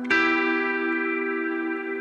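A single guitar chord is struck and left to ring through a BOSS GT-1000 processor with chorus and reverb effects, its shimmering tone sustaining and slowly fading with no talking.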